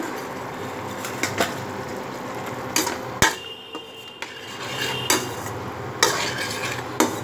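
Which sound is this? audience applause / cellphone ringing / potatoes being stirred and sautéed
potatoes being stirred and sautéed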